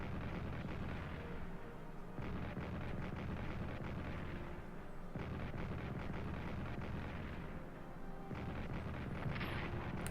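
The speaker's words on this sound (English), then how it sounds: "Artillery attack in Aachen, that could be pretty serious, as they're not dug in very well" Artillery attack in the World War I strategy video game Strategic Command: World War I: rolling, rumbling barrages of distant booms in repeated bursts, fairly faint and continuous with brief lulls.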